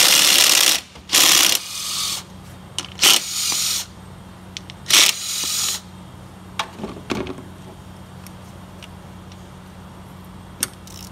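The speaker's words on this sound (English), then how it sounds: "And those are 10 millimeter, so just use a 10 millimeter socket." On an Acura RDX valve cover job, a ratchet on a 10 mm socket clicks in several short bursts while bolts are loosened, close and crisp, with pauses and light tool knocks between bursts and no talking.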